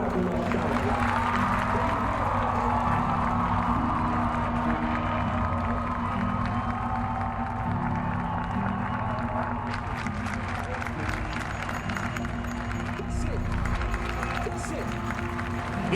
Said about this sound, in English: I need you to clap your hands to see what rock and roll sounds like.